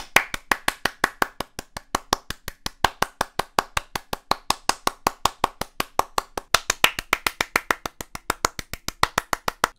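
A single person claps steadily and evenly, about five sharp claps per second for nearly ten seconds, close and alone with no voices.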